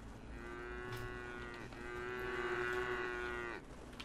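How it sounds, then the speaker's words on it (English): Cattle in the video game Craftopia moo in long, drawn-out calls, two close and clear lows back to back over a soft game background, with no talking. "Just the non-stop mooing."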